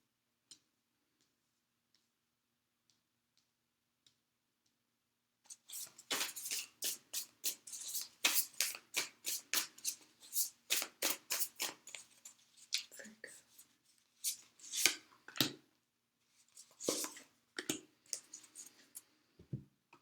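Animal Spirit Oracle cards are shuffled close up, a rapid series of crisp flicking and riffling clicks starting after a few quiet seconds, with brief pauses between bursts.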